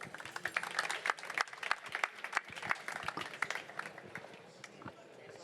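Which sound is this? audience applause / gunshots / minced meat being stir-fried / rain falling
audience applause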